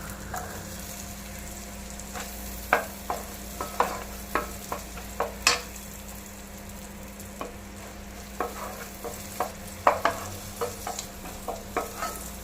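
Chopped ingredients sautéing in ghee for mutton mandi, with a steady low sizzle under scattered spatula scrapes and taps on the pan, fairly close and moderate in level, with no talk.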